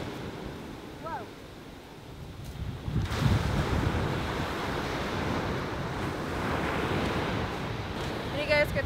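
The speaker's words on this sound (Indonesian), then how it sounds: "kita nggak bisa renang karena ombaknya gede banget" Large ocean waves crash at Bias Tugel Beach in Bali, a loud, continuous roaring surge close by, with heavy wind buffeting the microphone and a voice speaking over it.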